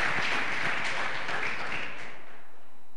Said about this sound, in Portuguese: Vamos dar uma salva de palmas para o nosso amiguinho aqui na frente